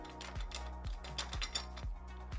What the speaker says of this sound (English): when you tighten up these clamps